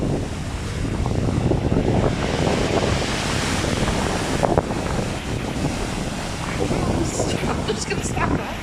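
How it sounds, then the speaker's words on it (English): Strong wind buffets the microphone on a beach while waves wash and roar nearby, a constant loud rushing roar with no breaks. "Nice windy walk on the beach"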